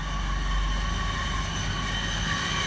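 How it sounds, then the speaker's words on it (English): Class 180 diesel train arriving at platform 2 of Loughborough station, with a steady loud rumble and humming engine tones close by as it rolls in. "Sorry, 180 coming in to the T-tone. Coming into platform 2 at Loughborough."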